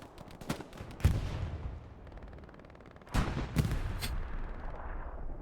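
Gunfire in a Hell Let Loose World War II match: scattered loud rifle and artillery-like bangs at intervals, with a sharp crack early and a heavier cluster of shots later over a rumbling battlefield bed.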